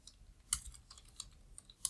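Keystrokes on a computer keyboard, sparse and uneven close clicks with several sharper taps, quiet between strokes and no talking.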